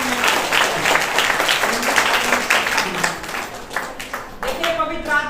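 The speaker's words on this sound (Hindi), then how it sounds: "जोरदार ताली बजा के" A church congregation claps loudly in a steady burst that thins into scattered claps as a voice starts speaking over it toward the end.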